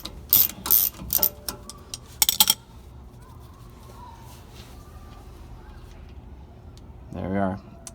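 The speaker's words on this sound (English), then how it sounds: "Just a 3/8 ratchet will do." A 3/8 ratchet clicks in several sharp bursts while loosening a tight plug on a Ford F-150 rear differential, followed by quieter handling noise and a short metallic rattle near the end.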